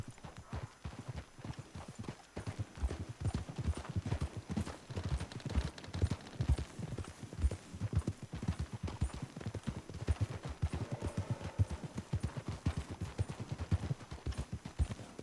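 Horses' hooves clip-clopping in Red Dead Redemption 2, a steady trotting rhythm of many faint, evenly spaced hoof beats with a brief whinny, no talk.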